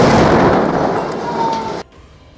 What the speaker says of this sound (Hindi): उसके लड़ाकों ने उस आईईडी को डेटोनेट कर दिया